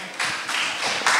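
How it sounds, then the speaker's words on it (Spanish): Brief burst of audience clapping at a Ciencia y Cañas popular-science talk, a dense patter of hands that swells in waves over about a second, close and fairly loud, with no voices over it. "Un aplauso."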